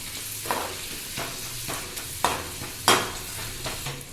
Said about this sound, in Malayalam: അങ്ങനെ ഇത് ഫ്രൈ ചെയ്യുന്നുണ്ട്.